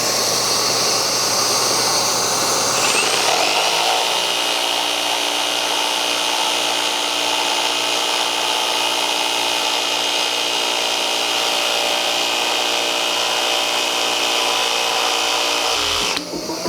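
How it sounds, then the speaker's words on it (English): A jigsaw cuts freehand at a 30-degree angle through a 2x4, a loud, steady buzzing saw whine with rasping blade chatter that runs continuously for about twelve seconds before stopping abruptly. "So we're going to use a jigsaw, and I'm going to see how straight."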